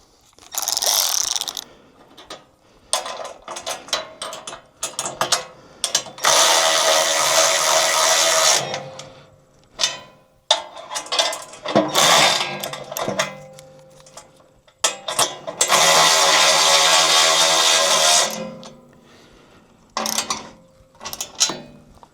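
A ratchet tightens a bolt on an umbrella mount fastened to a fence, with several loud, close bursts of rapid pawl clicking separated by pauses and softer handling clicks.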